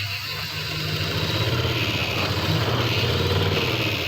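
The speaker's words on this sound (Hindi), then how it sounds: "अब हम इसके ऊपर सिलाई लगाएंगे, इन निशानों के ऊपर।" A sewing machine stitches pleats into kameez fabric in a steady, fast mechanical whir, close and fairly loud, running continuously without pause or speech.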